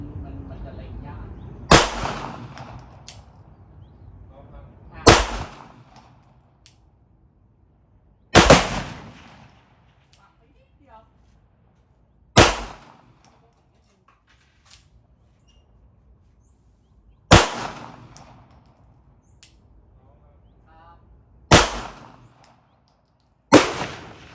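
A 9mm handgun fired outdoors in a long-range test at about 500 metres: seven sharp, loud single shots spaced a few seconds apart, each trailing off in a rolling echo, with quiet gaps between.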